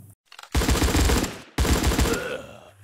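Gunfire comes from an offline shooter video game on Android. Two loud, close bursts of rapid automatic fire are split by a brief gap, with no talking.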